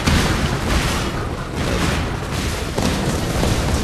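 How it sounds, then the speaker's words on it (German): Explosions in the Cannon Fodder 3 video game, a loud, continuous roaring blast that fills the whole clip with no talking. "Du wartest die Explosion ab, ne?"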